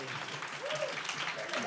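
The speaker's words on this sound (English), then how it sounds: "Can you clap it up for Aaron right there?" Audience clapping at a community information session, steady applause filling the short stretch with a voice rising faintly over it.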